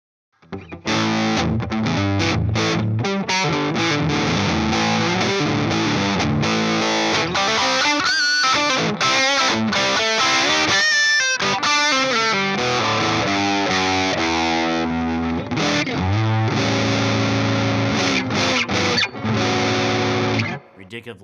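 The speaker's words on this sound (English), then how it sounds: "same kind of thing with some overdrive now." Overdriven Fender Kingfish Telecaster Deluxe electric guitar chugs through thick, sustained chords and riffs, loud and dense from start to finish with only brief breaks.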